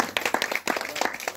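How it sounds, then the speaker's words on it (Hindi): An audience at a village gathering claps in a short burst of applause. It is fairly loud and uneven, with scattered hand claps that rise and fall over about a second. "परिवार के लिए जोरदार ताली चाहता"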